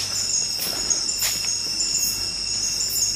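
Crickets chirp in a steady, continuous high drone at the edge of an overgrown forest at night, with soft pulsing bursts over a quiet, constant background.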